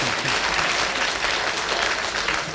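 A studio audience on a BBC panel game claps steadily and loudly, a dense, even wash of applause lasting the whole stretch with no voices over it.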